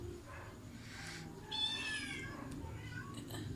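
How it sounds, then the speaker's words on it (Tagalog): Pet cat meowing indoors, one drawn-out, fairly faint meow rising out of a low background hum, with softer murmurs around it. "Tingnan niyo yung pusa ko."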